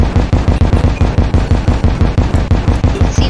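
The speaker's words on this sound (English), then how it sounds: "Burst of spore gas." Rapid, evenly spaced bursts from a spore gas weapon in the Terraria video game, a steady stream of punchy, close shots firing for several seconds without pause.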